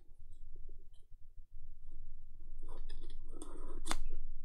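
Tape being cut inside an iMac during an SSD upgrade, heard as soft close snips and clicks with faint scraping, building to a sharper cut near the end, with no talking.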